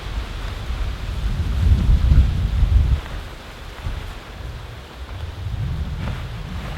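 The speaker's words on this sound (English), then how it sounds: "that wind is something else" Strong wind blows across a bushcraft camp outdoors as a deep, steady rumble against the microphone. It swells into a louder gust in the middle, eases, then builds again. No voices.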